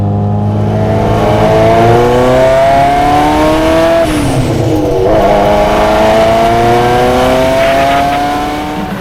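Roaring engine note of a Ferrari F40 pulling hard in second gear, loud and close, the pitch climbing steadily and then dipping briefly before rising again.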